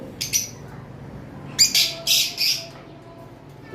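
Albino lovebirds in a cage give short bursts of high chirps, one brief call near the start and then a quick cluster of several sharp tweets, with quiet pauses between.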